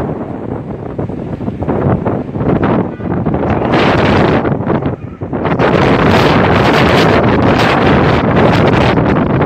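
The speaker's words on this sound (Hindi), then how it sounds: "तो अभी इतनी तेज़ हवा शुरू हो गई है" Strong wind buffeting the microphone in loud, roaring gusts that briefly ease, then surge back harder and keep blowing.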